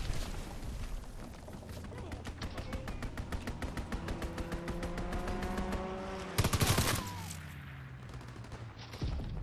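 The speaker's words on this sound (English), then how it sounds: "Strafing run inbound." Strafing run in the video game Call of Duty WWII: a long, steady stream of rapid machine-gun fire with a droning tonal layer beneath, broken near the end by a sharp, loud blast.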